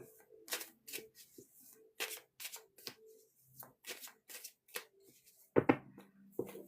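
Tarot cards being shuffled in repeated quick riffles and slaps, close and crisp, with short pauses between bursts.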